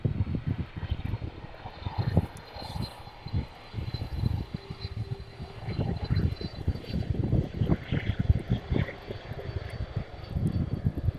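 An airliner arriving from JFK lands at a windy East Midlands Airport in the evening, a low rumbling engine roar that swells and fades unevenly through gusty wind, heard from a distance.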